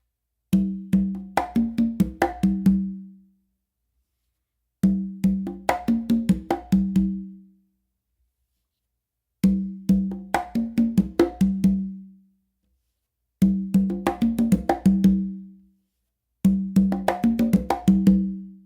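Hand-played bomba pattern on congas in five separate bursts, quick slaps and resonant open tones tumbling in a syncopated groove, close-miked with silence between phrases.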